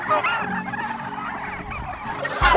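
Turkeys raised for Thanksgiving on an organic farm, a flock gobbling and clucking in overlapping, warbling calls, close and continuous, with a louder burst at the end.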